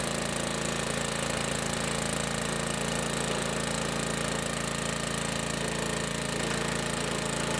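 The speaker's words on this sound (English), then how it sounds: "this log splitter that I've bought," Slow log splitter engine running steadily nearby, a continuous droning hum with a rough mechanical texture throughout and no talk.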